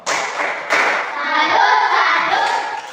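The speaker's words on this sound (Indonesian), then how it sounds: "Anak-anak, mari kita tepuk salut untuk Joe." A class of children claps a short rhythmic salute in a classroom, close and loud, with sharp synchronized hand claps followed by a brief burst of mixed voices and clapping.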